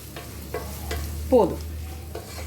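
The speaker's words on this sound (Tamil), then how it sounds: "இப்படியே நல்லா லைட்டாக வணக்கிய போதும்." Spices with coriander powder sauté in a pan for a Kerala chicken stew, with a few soft scraping stirs and a faint sizzle. The sound is fairly quiet, and one stroke near the middle stands out.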